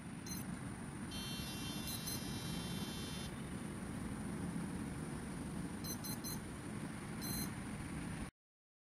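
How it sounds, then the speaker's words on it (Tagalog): Electronic speed controller on a Pixhawk-controlled UAV beeping after its push button is pressed: short high, thin tones in brief bursts and a longer run, over a steady loud broadband hiss and rumble. "may maririnig tayong beep mula sa ating ESC"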